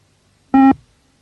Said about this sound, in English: If you don't cross it before the beep, you're gone.